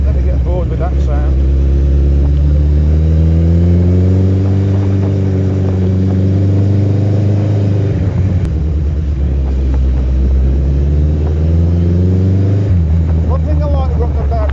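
A motorbike engine drones loudly and steadily while riding on a road on Kefalonia, its pitch rising and falling as it revs through gear changes.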